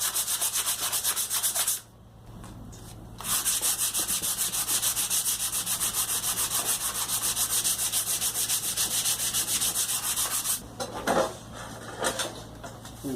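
Bondo body filler is sanded by hand on a car body panel, giving a harsh continuous scratchy rasp close by, with a brief pause near the start and a few stop-start strokes toward the end, no talking.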